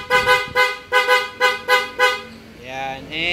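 A Honda PCX 160 scooter horn, rewired and now louder, gives six sharp honks in a quick rhythm, loud and close. The honks are followed by engine and background noise.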